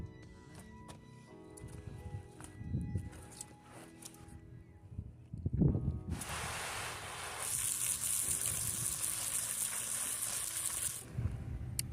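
Harvested garden produce, including parsley, gets rinsed under running tap water, with a steady broadband gush of water near the mic and some faint handling sounds before it.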